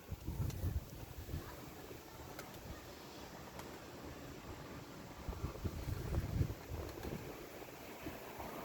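Gusty wind blowing in from the sea buffets the microphone with low rumbling bursts, rising and falling over a steady outdoor roar.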